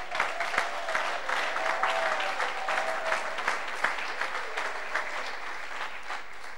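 A church congregation breaks into steady, sustained applause that fills the room at moderate loudness and carries evenly from start to finish, with no talk over it.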